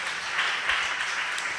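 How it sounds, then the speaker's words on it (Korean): A church congregation applauds in praise, a brief, even wash of many hands clapping at moderate volume with no clear break. "하나님께 영광의 박수."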